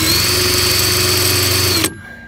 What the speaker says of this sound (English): I guess my cheap drill bit is not cutting very well